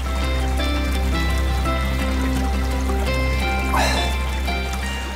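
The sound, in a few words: water trickling from sacred spring by Koshkarata river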